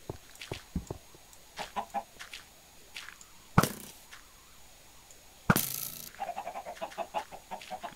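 Chickens cluck in a Minecraft chicken farm, with short repeated clucks scattered throughout, punctuated by two sharp louder bursts, fairly close and with no talk.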